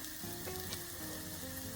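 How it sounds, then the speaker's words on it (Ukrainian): Steady, soft sizzling of green onion pastries frying in a shallow layer of hot oil in a covered pan, with faint crackles and pops throughout and no voices. "смажимо свій перекус"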